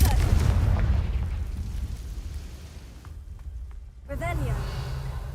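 A Confringo blasting spell explodes in Hogwarts Legacy: a loud booming burst at the start over game ambience, followed by a quieter stretch and crackling magical effects near the end.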